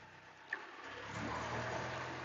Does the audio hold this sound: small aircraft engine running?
yes